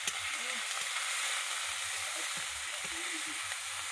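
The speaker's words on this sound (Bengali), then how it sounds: "গরম কড়াইতে এবারে রসুন দিয়ে দিচ্ছি।" Garlic and ginger sizzle in a hot pan, a soft and even hiss with faint stirring clicks and a low voice underneath.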